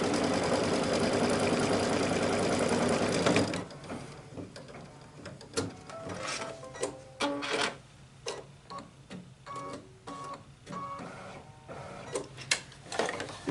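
An embroidery machine stitches a tack-down on a t-shirt for a ruffle design, whirring steadily and loudly for a few seconds, then stopping and giving way to irregular clicks, taps and clunks.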